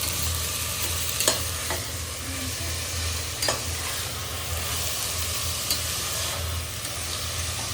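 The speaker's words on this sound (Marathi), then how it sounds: "तर हा कांदा आता आपण असा हलवून घेऊया." Chopped onion being stirred and fried in hot oil in a pan, a steady loud sizzle with occasional scraping stir strokes, heard alone.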